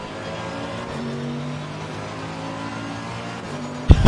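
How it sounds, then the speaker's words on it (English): A GT3 race car engine in the racing game Assetto Corsa Competizione drones steadily close by with shifting tones as a car passes, ending in a sharp loud burst at the end. "Just heard a car go flying past."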